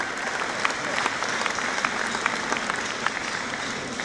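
A large audience applauds at the Bocuse d'Or 2015 cooking competition final in Lyon, France. The clapping is dense and continuous and holds at an even, moderate level throughout, with no voice heard over it.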